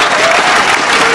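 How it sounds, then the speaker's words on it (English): Spectators at a 2006 World Championship women's singles badminton semifinal applaud, a brief, dense burst of clapping from the crowd filling the hall. "Sympathy applause is on the side of Germany."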